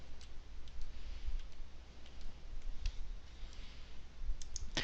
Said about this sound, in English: If I hold down the Shift and Control keys and press the right arrow key